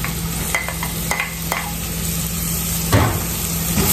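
Garlic cloves and chopped small onion sizzle in a pressure cooker with bacon, a steady close frying hiss with a few soft stirring knocks.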